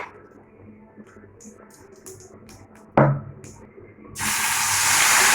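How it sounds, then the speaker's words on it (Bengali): Nigella seeds (black cumin) drop into hot oil left from frying fish. A brief clatter comes first, then a loud, steady sizzle that keeps going, with faint kitchen noises before it. "তেলে দিয়ে দেবো কালো জিরে"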